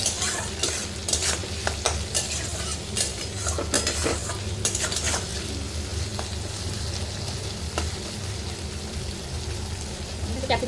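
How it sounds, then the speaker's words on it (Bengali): Capsicum fries in a pan as it is stirred, giving a constant close sizzle with frequent scraping and clicking strokes of the utensil throughout. "ক্যাপসিকামটা দিয়ে নেড়ে চেড়ে নেবো"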